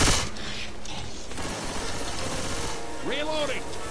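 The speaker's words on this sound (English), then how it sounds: "Reloading." Weapon reloading in Left 4 Dead 2: short mechanical clicks and metallic ratcheting against a steady game background, with a brief tonal sweep near the end.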